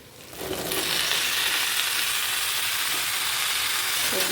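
Vegetables hit hot oil in a pan and set off a loud, continuous sizzle that swells quickly and holds steady, close by.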